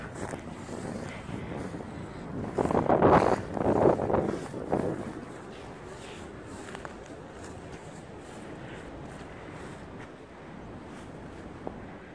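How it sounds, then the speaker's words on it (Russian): Gusty wind roars against the microphone, swelling loudly for a few seconds early on before settling into a steady, rushing blow. "Ветер у нас сегодня пуще прежнего."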